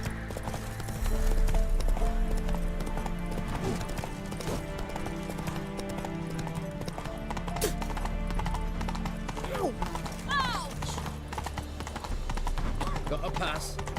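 Roach, a horse in The Witcher 3: Wild Hunt, gallops with steady, rapid clip-clop hoofbeats over continuous game music and ambience, with a brief whinny partway through and someone talking over the action.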